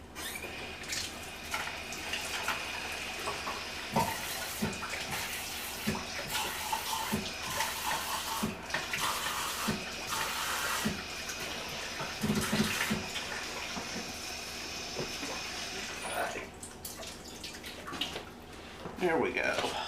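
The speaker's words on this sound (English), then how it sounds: "So let me get a can of some warm water, add it to this" Warm water pours from a can into a seasoning mixture in a home kitchen, a continuous splashing stream with faint drips, fairly quiet and close, while a person talks intermittently over it.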